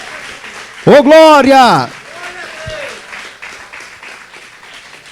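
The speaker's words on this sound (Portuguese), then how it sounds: "Vamos aplaudir a ele bem forte." Applause from a church congregation during a sermon, a steady wash of clapping that runs through the whole stretch while a voice gives a loud, ringing shout of praise over it near the start.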